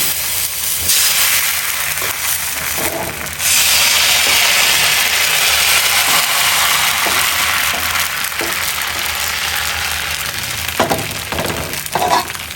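Steady loud hiss and sizzle of pitha batter frying in an oiled pan on the stove, continuous throughout with a brief surge early on and a few small clinks near the end.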